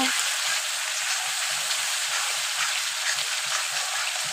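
Ground spices sauté in hot oil for a prawn curry with a dense, even crackling sizzle, close and constant, while faint soft stirring taps sit underneath.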